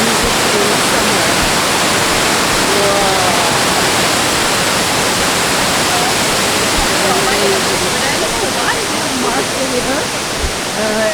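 Fukiware Falls in Gunma, Japan, roars as a loud, dense and unbroken wash of falling water close by, while a person speaks briefly over it.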